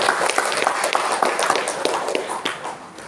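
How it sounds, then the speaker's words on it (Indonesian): An audience applauds at the opening of a teacher orientation workshop in Tulang Bawang Regency, a dense, even patter of many hands clapping that fades slightly toward the end. "Tepuk tangan buat kita semua dulu."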